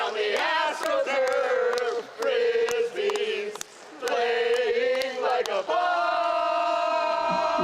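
Ultimate frisbee team cheer, a group of players shouting and chanting together in loud sustained bursts with brief gaps, voices layered and close.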